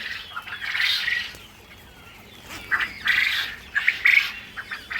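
Quail squawk and chatter in bursts of shrill, harsh calls over a low background murmur, moderately close.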